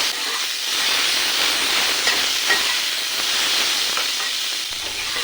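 Pointed gourd (potol) frying in hot oil with salt and turmeric: a steady, dense sizzling hiss that runs without a break, close by and fairly loud, with no talking.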